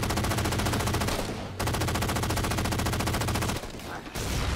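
Continuous automatic gunfire from a Halo 4 multiplayer match, loud and dense with rapid bursts, briefly dropping out twice before resuming.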